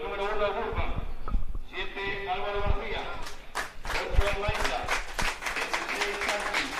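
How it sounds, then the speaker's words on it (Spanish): Stadium crowd in the stands applauding as a green-and-white football team takes the pitch for a preseason match, steady broad clapping under continuous commentary. "Y los aplausos de la grada para el conjunto verde y blanco."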